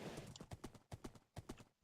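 Minecraft horse hooves clip-clopping across terrain in a rapid, uneven rhythm of distinct hoof strikes, close but quiet, with no talk over them.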